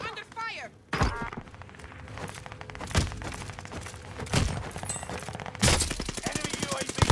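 Video game gunfire in Call of Duty: rapid automatic bursts and sharp single shots, close and loud, cracking out repeatedly over several seconds while players talk over the fighting.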